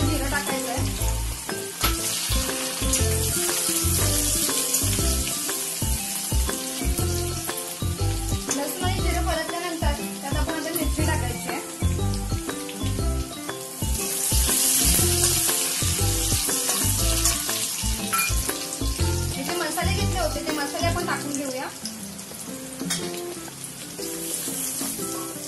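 Garlic and cumin fry in oil in a kadhai for an alu leaf bhaji, a continuous sizzle broken by rhythmic stirring and scraping strokes, with faint water-like splashes and no voice heard.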